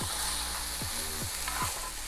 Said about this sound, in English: So here we will stir fry this for again until they are soft.